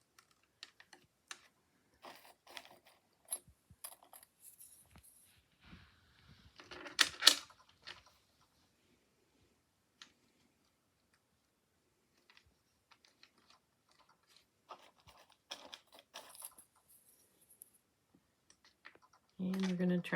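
Handy Hat Maker knitting machine being worked to knit a hat, giving quiet, scattered plastic clicks and clacks in irregular bursts with short pauses and a brief voice near the end.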